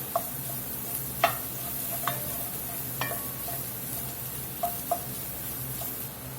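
Tomato paste being stirred into a sizzling pot for beef short rib ragu, with a steady low frying hiss and a few soft scraping clinks of a utensil against the pot, no talking.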